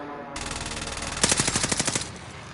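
Welgun submachine gun firing in Call of Duty Warzone, a sustained close automatic burst that grows denser and punchier midway, rapid even shots for about two seconds before stopping.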